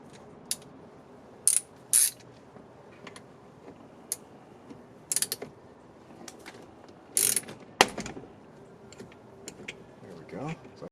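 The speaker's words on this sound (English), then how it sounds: "Just going to use a ratchet." Ratchet loosening a 14 mm bolt while removing the steering wheel on a 2004 Honda Pilot, giving short bursts of quick metallic clicking spread irregularly over a faint background hum.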